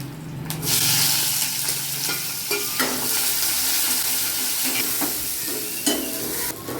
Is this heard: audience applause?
no